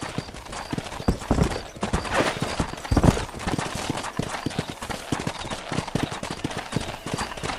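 Horse hooves clip-clop in a steady galloping rhythm in the Red Dead Redemption game, close and continuous for several seconds, with a few sharper thuds mixed in and no talk.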